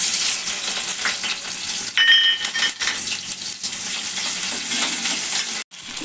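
Hot oil sizzling steadily in a pan on a home stove for egg fry, a continuous loud hiss with a few brief metallic clinks, no talking.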